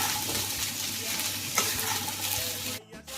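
Cooked rice and vegetables frying and being stirred in hot white oil, a steady close sizzle with scraping stirs and one sharp clatter, briefly dropping near the end.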